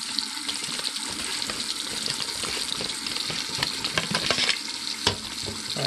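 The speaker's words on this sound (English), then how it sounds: "Get the water going." Water runs steadily from a tap in a continuous, close hissing splash that shifts slightly in tone as the flow hits below.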